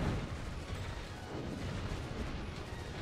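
Dense, continuous machine gun fire in the Drakengard video game, a loud broadband rattle of rapid bursts and crashes with no clear gaps.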